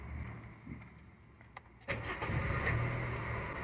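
A Honda 2.4 engine in a Civic, Accord or CR-V is cranked with the starter whirring briefly before it fires and settles into a steady idle, moderately close and alone.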